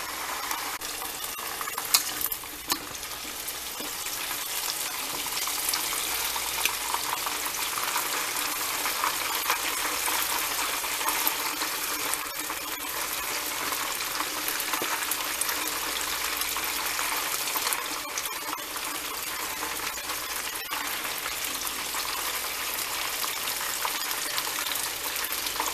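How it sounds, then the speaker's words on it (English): Chicken wings for Buffalo hot wings fry in oil with a steady, loud bubbling sizzle and crackle lasting throughout, with occasional sharper pops and faint clinks. "we're gonna let that fry a while"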